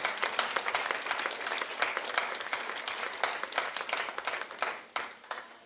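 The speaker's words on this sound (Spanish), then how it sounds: "Denle un aplauso al Señor." A large church congregation applauding steadily for several seconds during a sermon, dense clapping that thins out toward the end.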